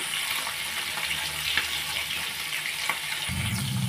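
Fish fries in a pan of hot oil with a steady, dense sizzle at close range, spitting crackles throughout and a low rumble joining near the end.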